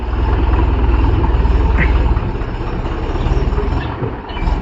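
A Mahindra 415 DI 40 hp tractor pulling a spring nine-tine cultivator in a field, its diesel engine chugging loud and close in a steady pulsing rhythm that eases slightly near the end.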